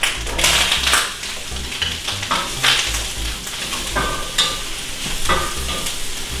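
Vegetables frying in butter and cooking oil in a hot skillet, a loud continuous sizzle broken by repeated stirring scrapes and taps of the utensil against the pan.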